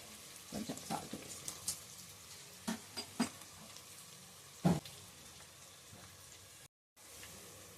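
Onions with a pinch of salt softening in hot oil for a goat-head curry, giving a faint steady sizzle broken by several sharp scrapes and stirring knocks from a spoon against the pan.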